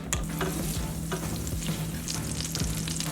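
Potatoes fry in butter and olive oil in a pan, giving a steady, close sizzle and crackle throughout with a few brief scraping stirs.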